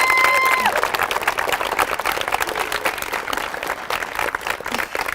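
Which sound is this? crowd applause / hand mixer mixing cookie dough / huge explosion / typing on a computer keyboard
crowd applause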